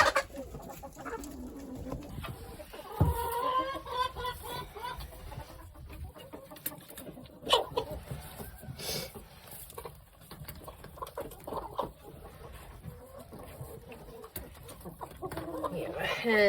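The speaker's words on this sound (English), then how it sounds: "Hen who is roosting." Roosting hen clucking in a chicken coop during wet, muddy winter weather, with soft repeated clucks and other fowl sounds nearby while a person talks over them.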